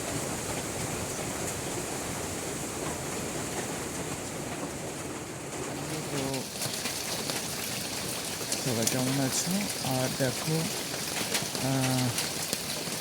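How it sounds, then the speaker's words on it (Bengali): Steady, dense rush of heavy rain and gusting wind from Cyclone Remal at night fills the whole clip, with a person speaking briefly over it near the end. "সারা রাত ধরে তো ঝোড়ো হাওয়া বয়ে চলেছে এখনও বইছে সঙ্গে বৃষ্টি প্রচণ্ড বৃষ্টি হয়েছে"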